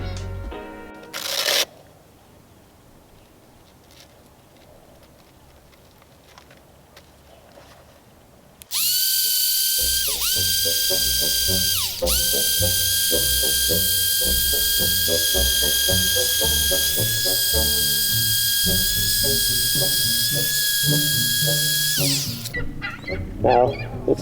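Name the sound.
grinder grinding out osmosis blisters on boat hull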